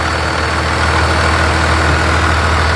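A truck's newly replaced engine idles close by, a loud, steady low rumble with an even mechanical pulse and no voices.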